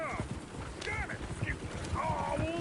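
Horses clip-clop and whinny amid a noisy scene of shouting voices, with hooves and neighs rising over constant chatter and commotion throughout.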